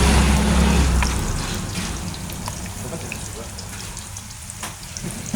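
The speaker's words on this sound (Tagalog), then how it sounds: "Ato sa ipa brown guys ang sibuyas ug bombay guys." Onions and shallots sizzle in a frying pan, with an opening burst of louder low rumble that settles into a steady soft crackle with small sharp pops.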